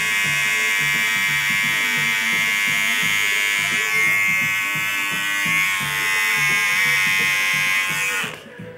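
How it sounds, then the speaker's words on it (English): Small electric hair trimmers clipping hair during a hair sculpting session, a steady loud motorized buzz with a pulsing rhythm that runs continuously before cutting off near the end. "The little trimmers, and I'm holding them about a quarter of an inch above the hair, so that it clamps it, but it allows the movement of the clipper as well."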